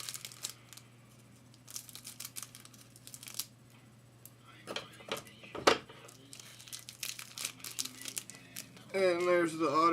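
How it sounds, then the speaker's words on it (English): A football trading card pack's plastic wrapper is cut open and handled, with bursts of crinkling and tearing, ending with a voice speaking over the rustle. "so I will cut it open"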